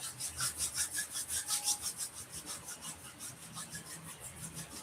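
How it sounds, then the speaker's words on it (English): Palms rub quickly back and forth in a steady rhythmic swish, about three strokes per second, soft and close, with no voice over it. "slowly exhale and start rubbing your palms"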